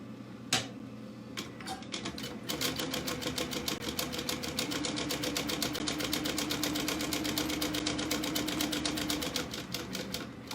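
A sewing machine runs a quick basting stitch through foam for a Sallie Tomato Tiffany Bag, its rapid, even mechanical ticking steady and close for about eight seconds after a few short starts.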